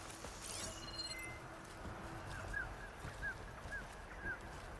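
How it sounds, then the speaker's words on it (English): Ducks in the game Horizon Forbidden West give four short quacks at a steady spacing in the second half. The calls are faint and distant over a quiet outdoor ambience. "I hear ducks. Thought I heard ducks."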